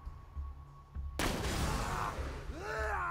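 In-game explosion and gunfire from Borderlands 2 played in co-op: a sudden loud blast erupts after a quiet moment and rumbles on, followed by rising synthetic whines.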